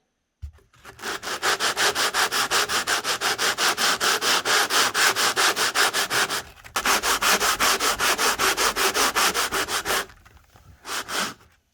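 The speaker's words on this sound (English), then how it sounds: "So I'm going to sand it down maybe 2 or 3 inches on each side to make a nice smooth transition going over this point." Sanding block rubbed back and forth over N scale model railway roadbed at a grade transition, a steady run of close, loud, rhythmic scraping strokes with a brief pause midway and a short final burst.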